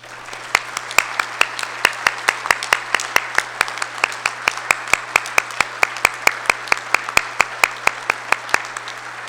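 Audience applause at a business breakfast event, with a few sharp individual claps standing out in a steady rhythm over a thin background of clapping, sustained for several seconds.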